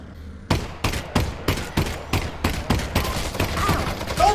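A firearm in Half-Life: Alyx, played in VR, fires about a dozen sharp shots in a steady rhythm at close range, the spacing tightening slightly toward the end.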